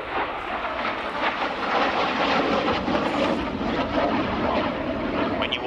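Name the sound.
Hawker Hunter T7A jet flying at air display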